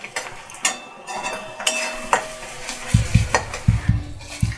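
A spatula scrapes and clinks around a pan as egg, onion and chopped chili fry, with sharp metallic taps and stirring scrapes over a soft sizzle, close and uneven in rhythm.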